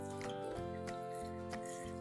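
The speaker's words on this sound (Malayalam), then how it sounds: "വെള്ളം ഒഴിക്കാം" Water pours steadily into a pot holding small onions, turmeric powder and curry leaves for a one-pot sambar, a continuous close splashing and trickling with no talk.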